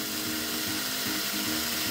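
Electric drill biting into a metal rivet on a Matchbox Land Rover Defender 90 die-cast toy, a steady close grinding whir with slight rhythmic load changes, continuous throughout with no talking.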